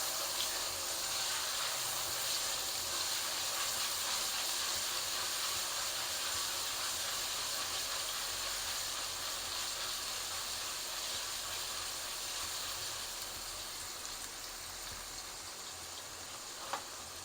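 Garlic and ginger fry in a kadhai for black pepper chicken gravy, giving a soft, steady sizzling hiss that continues evenly and fades slightly toward the end, fairly faint.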